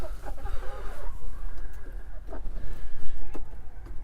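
Chickens in a garden coop give soft coos and clucks in scattered short bursts, close by and fairly quiet, over low outdoor background noise.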